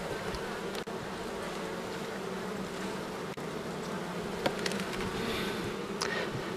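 Honeybees buzz around an open hive in autumn, a dense, steady hum of many insects close by, with a few faint clicks and knocks.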